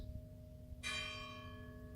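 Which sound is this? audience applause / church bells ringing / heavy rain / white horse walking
church bells ringing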